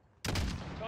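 Single loud rifle shot fired in Call of Duty Modern Warfare, a sharp blast with a long booming tail that rolls on to the end, alone without talk.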